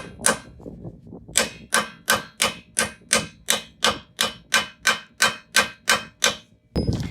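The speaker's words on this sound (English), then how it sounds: "You're going to hammer it." A 12-point socket is driven onto a wheel lock with a hammer: about fifteen sharp metallic strikes land in a steady, evenly spaced rhythm, loud and close, with a short pause after the first blow.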